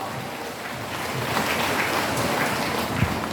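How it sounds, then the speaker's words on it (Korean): A church audience claps to welcome a pastor, heard as a dense, steady wash of applause from a large crowd that swells slightly and then holds evenly. "박수 보내시기 바랍니다"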